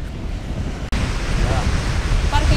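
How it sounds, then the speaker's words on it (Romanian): Waves crashing with ice on Lake Michigan during a snowstorm, a steady broadband roar of surf blended with heavy wind buffeting, sustained and loud with a brief dropout near the start. "se aud valurile cum lovesc și vin cu gheață"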